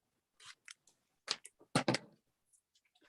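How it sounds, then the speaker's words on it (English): Scissors trimming paper in a craft session: a handful of short, crisp snips close up, clustered irregularly with brief silences between cuts. "And then I'll just trim it off from the back."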